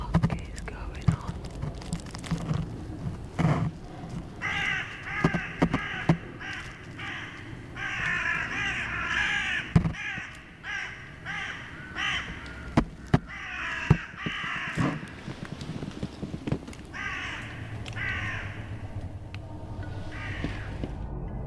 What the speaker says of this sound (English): Whatever it was enough to set off the sleeping crows.